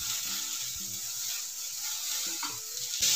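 Chopped spring onion greens frying with onion and a pinch of asafoetida in a pan, giving an even, close crackling sizzle that swells into a louder hiss at the very end.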